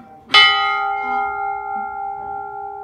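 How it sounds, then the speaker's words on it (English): A ship's bell aboard HMAS Castlemaine is struck once, close and loud, its bright metallic tone ringing on and slowly fading. "This is me ringing a ship bell, everyone."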